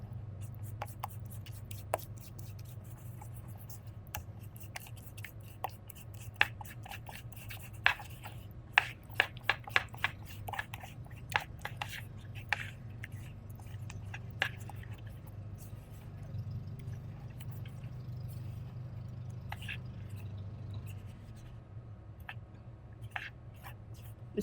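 Dental impression putty kneaded and mixed by hand at home, giving soft rubbing, sticky squishing and scattered small clicks over a steady low hum, with no talking.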